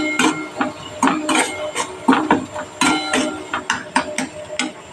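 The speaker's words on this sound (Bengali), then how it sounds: "এবার এটাকে আমি ভালো করে কষাবো।" Ground spices, cumin powder, sugar and salt stir-fried in a pan for pointal dorma, with repeated sharp scraping and clattering strokes of a spatula against metal at an irregular, busy rhythm, close and fairly loud with no talking.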